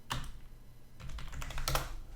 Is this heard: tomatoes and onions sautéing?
no